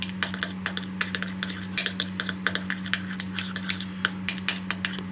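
Pickled plum is worked into softened butter in a bowl, giving a run of close, rhythmic clinks and scrapes of a utensil against the bowl over a low steady hum.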